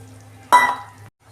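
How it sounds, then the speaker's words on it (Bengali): A small splash of water poured into simmering soybean curry gives a short, close burst of sizzling and hiss lasting about half a second, then quiet, over a low steady hum. "আমি অল্প পরিমাণ জল দিচ্ছি"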